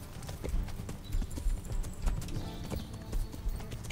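Horse hooves clip-clopping at a steady trot in Kingdom Come: Deliverance, a continuous close rhythmic clatter over the game's background sound, with no talking.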